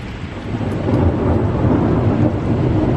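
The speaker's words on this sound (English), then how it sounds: "Wow, look at this storm." A thunderstorm with steady heavy rain and a deep rolling rumble of thunder building through the middle, loud and close outdoors, with no voices.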